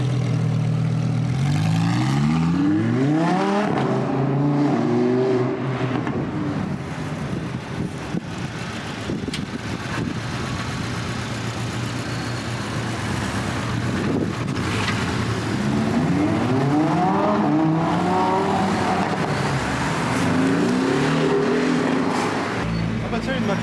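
A McLaren sports car engine revs and roars past outdoors, rising and falling in pitch through several passes, with wind buffeting the microphone and people talking nearby.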